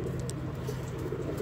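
Pigeons cooing close by in soft, low repeated coos over a steady background hum, with no talk.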